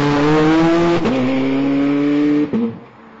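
A Ferrari 430 Scuderia V8 engine roars loud and close from inside the cabin, holding a steady aggressive note with two quick shift breaks before easing off at the end.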